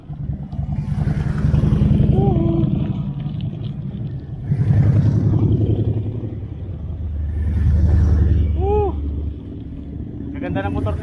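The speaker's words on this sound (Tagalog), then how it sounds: "Ganda ng motor nila." Motorcycles pass one after another on a trail road, three swells of engine rumble rising and fading at a moderate distance, with a voice speaking during the passes.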